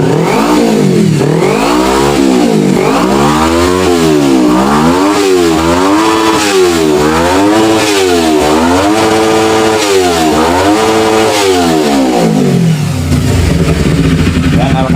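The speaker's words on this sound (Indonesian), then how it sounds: "Coba kita geber karena kemarin ngadat." A carbureted Kawasaki Ninja 250 engine with a stalling fault revs hard again and again in a steady rising-and-falling pattern, loud and close, then drops back to a rough idle near the end.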